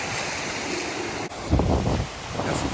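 Ocean surf at Daytona Beach, surfers out on the water, a steady wash of breaking waves mixed with wind buffeting the microphone, with a louder rush of surf partway through.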